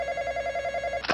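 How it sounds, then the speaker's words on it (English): A telephone in the video game Intruder rings with a steady warbling electronic trill, close and continuous, ending in a short noisy burst. "Phone's ringing."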